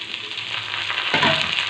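Capsicum goes into a hot pan with already fried onions, and a brief close sizzle swells sharply as the pieces hit the oil.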